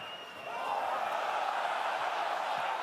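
A stadium crowd at a Perpignan versus Toulouse Top 14 rugby match swells into a loud, sustained broadband roar after a kick by Ramos, rising quickly and holding steady.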